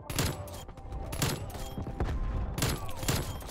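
Rapid bursts of pistol fire from the Diamatti in a Call of Duty match, several quick volleys in a row with short pauses between, loud and close amid game effects.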